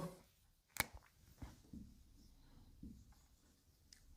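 Chalk taps and scrapes against a board during a maths lesson, a few sharp short strokes spaced out over a quiet room.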